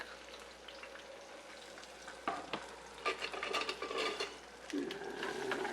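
Cherry tomatoes and garlic fry in a pan with a low, soft sizzle, broken by scattered clinks and scrapes of utensils tossing the food.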